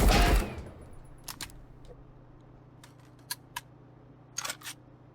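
STG-44 7.62 caliber rifle hip fired in the video game Marauders: a few quick separate bursts of gunfire, two close shots then a pair and a tighter cluster of rapid shots, over a low steady hum.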